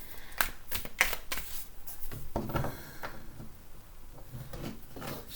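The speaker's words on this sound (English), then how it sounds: "Just going to give a little shuffle here." Tarot cards are shuffled by hand, a quiet run of papery riffles and soft slaps close by, with no talking.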